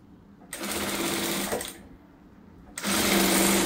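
Domestic sewing machine stitching fabric for a patchwork pillowcase, two bursts of rapid whirring needle motor, close and clear, separated by a short pause.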